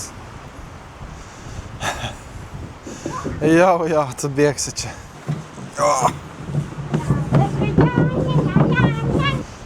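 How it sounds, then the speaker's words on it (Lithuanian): Gusty wind buffets the microphone with a low rumbling roar while people talk over it. "tai vėjelis tai toks stiprus, kad nieko nesigirdi net"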